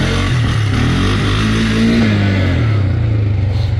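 A Polaris vehicle accelerating hard for a wheelie, engine droning loud and close as its pitch climbs, holds, then drops toward the end.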